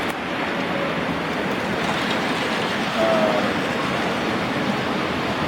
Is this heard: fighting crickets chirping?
no